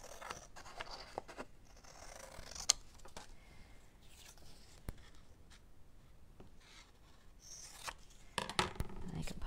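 Scissors make sharp, intermittent snips and crisp rustles as paper is trimmed for a handmade card, the cuts coming in scattered bursts close by while a person talks quietly in the background.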